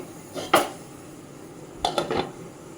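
Carrot halwa being stirred in a cooking pot, with two brief clusters of utensil scrapes and clinks against the metal, one near the start and another later, separated by quiet.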